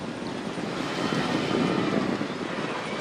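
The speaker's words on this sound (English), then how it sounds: "Looking down from the helicopter" A helicopter flies above the 2012 Tour de France stage race near Rouen, its engine and rotors making a steady, dense drone that holds evenly throughout with no voices.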